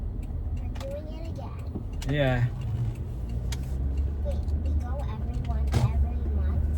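Car driving on a road on the way to pick up school supplies, with a steady low engine and road rumble throughout while people talk inside the cabin.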